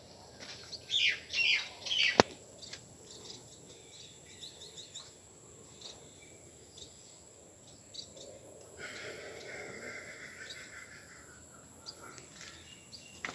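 Birds in trees call with a couple of sharp, bright chirps early on, then fall quiet against a thin, steady insect drone and faint outdoor ambience.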